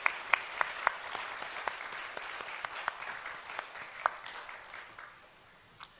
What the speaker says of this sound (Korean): 우리 영광의 박수를 주님 앞에 올려드리도록 하겠습니다